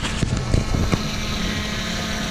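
A Pegasus fishing drone climbs after an aborted landing near the Hawaii shore, its motors giving a loud, steady whirring roar mixed with rushing wind noise close to the microphone.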